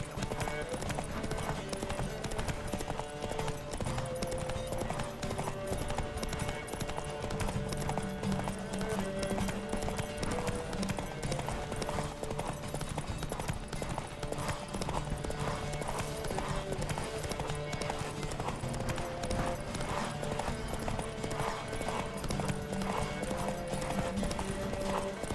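Horse hooves in The Witcher 3 game racing at a gallop, a steady rapid clip-clop running throughout, loud and continuous beneath a dense music bed with occasional voices.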